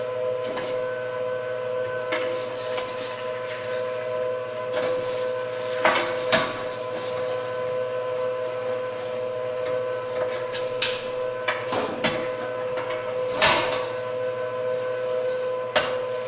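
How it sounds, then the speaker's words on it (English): A meat grinder running steadily as it grinds onions for blood sausage, a constant mechanical drone with a tonal hum and scattered clanks and knocks of handling, close and loud with no talk. "now we're just going to grind up the onions and then we're going to do the pork trims"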